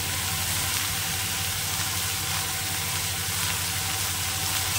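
Sliced ridge gourd fries in a pan with onion, garlic and salt, giving a steady, close, dense sizzle that runs without a break and with no voices.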